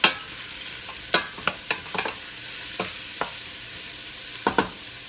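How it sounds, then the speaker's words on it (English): Chopped onion is stirred in grapeseed oil in a pot, a soft sizzle broken by a scattering of sharp clicks and scrapes from the spoon against the pot. "I've chopped up the onion, so we're going to go ahead and put that in a pot."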